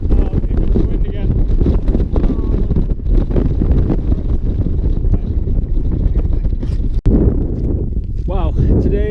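Strong wind in the Andes mountains near the Chile–Argentina border buffets the microphone with a loud, continuous roaring rumble, while a person speaks over it.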